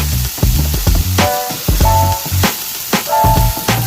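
Red chili powder is stirred into vegetables frying in a pan for dal mastani, a loud, close sizzle broken by repeated scraping stir strokes, with background music tones over it.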